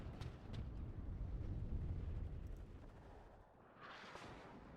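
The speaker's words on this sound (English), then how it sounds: "Artillery." Artillery fire in the WARNO wargame, a faint low rumbling barrage of distant booms rolling continuously, softening midway before a brief hissy swell, no voices.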